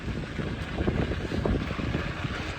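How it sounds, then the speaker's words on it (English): Wind buffeting a microphone on an outdoor mountain bike ride, a steady low roaring rumble with irregular gusty pulses, loud and continuous with no talking. "Hopefully the wind's not too bad, but beautiful day for a ride."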